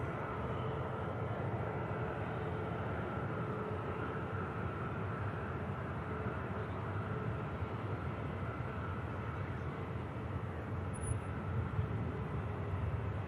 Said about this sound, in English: Lingus 320 for Dublin. Last departure.